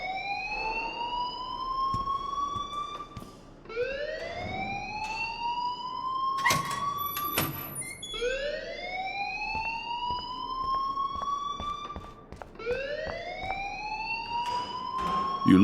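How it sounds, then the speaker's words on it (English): Alarm ringing in the Life is Strange video game: a continuous rising, whooping electronic siren sweep repeating every few seconds, loud and steady, with a brief sharp clank midway. "please turn off that alarm since that's your job"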